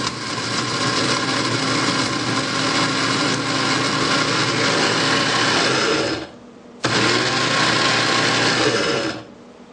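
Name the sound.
grinder grinding jalapeno peppers with seeds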